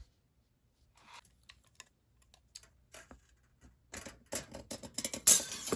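Scissors snip through a flexible measuring tape, with scattered quiet clicks and snips at first, then a denser run of louder, rapid cuts toward the end, close to the microphone.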